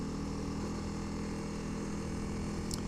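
Honda CRF300L motorcycle engine running, a steady deep rumbling drone with layered low harmonics, even and continuous, close and alone with a brief high click near the end.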